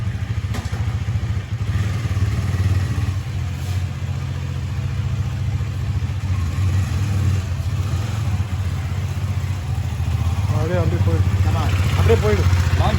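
A Husqvarna Svartpilen 250 motorcycle runs close by, its engine holding a steady low drone throughout with a few revs rising near the end, while people talk over it.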